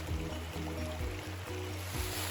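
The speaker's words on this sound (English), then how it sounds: "Little stream." A small, clear creek flows past an old stone wall on a Big South Fork trail. The soft trickle sits under a low, humming drone that pulses rhythmically.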